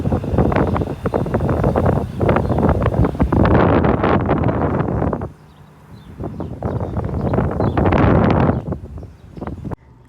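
Loud, strong wind buffets the microphone in heavy gusts, roaring almost continuously with a brief lull before surging again.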